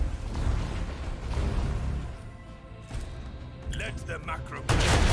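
Macro cannon barrage in Warhammer 40000: Rogue Trader: a heavy, continuous rumbling roar of repeated booms, loud and dense, ending with a sharp burst of noise.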